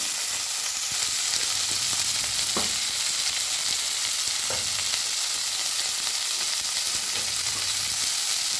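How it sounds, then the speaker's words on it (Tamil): Spices such as cumin and pepper with shallots, garlic and curry leaves sizzle and fry steadily in a pan for homemade egg gravy, a continuous close hiss broken by a few brief stirring scrapes. "இதை நல்லா வதக்கிக்கலாம்"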